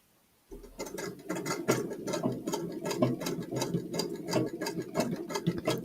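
A sewing machine stitches fabric pieces together for piping and a choli. Its rapid, even mechanical ticking and whirring start abruptly after a brief silence and continue close and steady.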